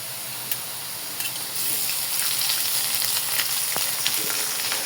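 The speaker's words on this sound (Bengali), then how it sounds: "আলু ভাজার সাথে বিফটা একটু ভেজে নিব।" Beef sizzles in a pan with nearly done fried potatoes on a home stove, a steady close hiss of frying with light crackles and occasional stirring taps throughout.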